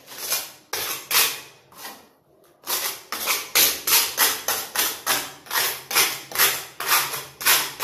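A metal spatula knocks and scrapes along 10x20 white ceramic wall tiles during finishing work, producing a steady run of rhythmic sharp taps, close and fairly loud, with a short pause early on.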